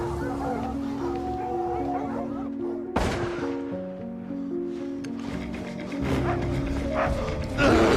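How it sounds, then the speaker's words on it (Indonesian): Sharp dog barks burst out amid tense music and a loud bang, the barking near and repeated toward the end. "tiba-tiba anjing menggonggong disertai suara ledakan senjata"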